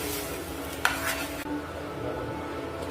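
Prawn curry masala sautéed in a pan with oil, a continuous sizzle under stirring scrapes, with a sharp utensil clink early on before the frying noise drops slightly.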